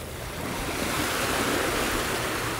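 Ocean waves wash onto the shore in the Cayman Islands, a steady broad roar of surf with gentle swells, fairly faint and heard alone.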